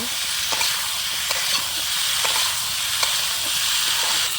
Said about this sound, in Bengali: ভালো করে আলু টমেটো কষিয়ে নেব।